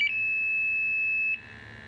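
An MSA Altair 5 gas monitor, not zeroed for a while, sounds a loud, piercing, steady alarm tone that holds for over a second, then abruptly cuts off, leaving quiet.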